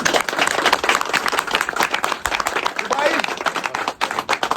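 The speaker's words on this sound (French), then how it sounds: "On fait fort. Applaudissez." A crowd claps loudly and continuously, dense applause filling the space while voices speak and cheer over it.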